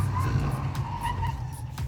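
A car drifting during a handbrake-turn drift lesson with a pro driver, tires skidding and squealing over a steady engine drone, close and continuous for a couple of seconds.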